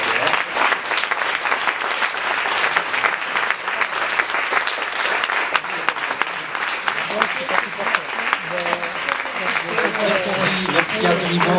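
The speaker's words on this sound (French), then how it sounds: "Alors applaudissons vraiment à rompre le..." A conference audience applauds at length after a talk on food and energy self-sufficiency for Réunion, dense sustained clapping, with a voice starting to speak near the end.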